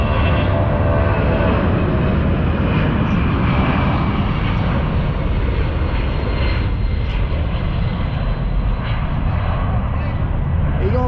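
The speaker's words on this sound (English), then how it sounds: "That new cargo plane." A C-117 cargo plane flies a touch and go at an airfield, its engines giving a loud, sustained roar that stays close and heavy throughout.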